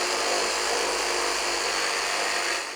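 A Makita DJR189Z compact 18V cordless reciprocating saw cuts through a thick wooden board, giving a loud, continuous, close-up buzzing rasp that holds steady throughout and fades slightly at the end.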